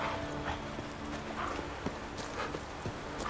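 Roach, the horse in The Witcher 3: Wild Hunt, steps with steady, irregular hoof clops over a constant outdoor ambience. The clops are moderately close and there is no talking.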